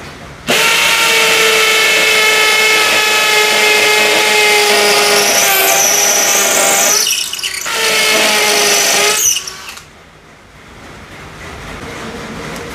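A DCA ADJZ03-13EM cordless hammer drill with a 16 mm bit bores loudly and steadily with a high whine, briefly dropping out near the end before spinning up again, then fading down.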